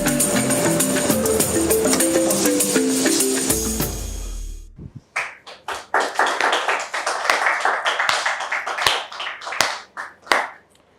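A French audience claps loudly for several seconds after music fades out, a dense burst of applause with scattered individual claps, followed by irregular sharp hand taps trailing off near the end.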